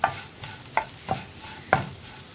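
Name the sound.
stirring capsicum into lentil usli in pan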